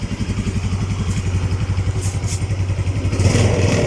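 A Yamaha Mio MX 125 scooter engine with a freshly fixed carburetor idles close by in a loud, rapid, even putter, swelling slightly as it revs near the end.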